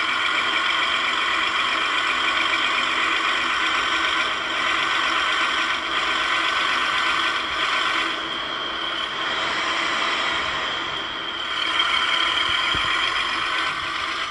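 Steady, loud engine drone of a truck in the Grand Truck Simulator driving game, a continuous rumble with a bright tonal hum that holds throughout with slight swells and no talking.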